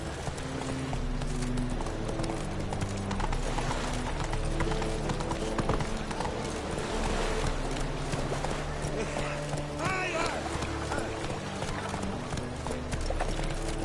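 Roach, Geralt's horse in The Witcher 3, gallops with a steady rhythmic clip-clop of hooves running continuously under game music and a speaking voice.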